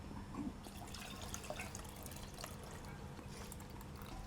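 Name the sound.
pouring coconut milk payasam back into pot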